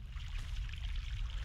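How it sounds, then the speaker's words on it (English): Fresh mountain water flows in The Longest Journey game, a low, steady rushing murmur with a soft trickling wash, quiet and continuous. "Fresh mountain water."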